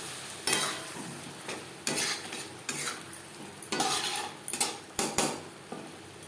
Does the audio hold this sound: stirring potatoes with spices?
yes